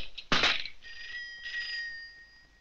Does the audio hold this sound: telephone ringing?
yes